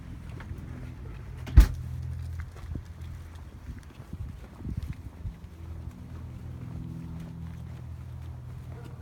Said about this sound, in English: Go ahead and shut the door behind you, please.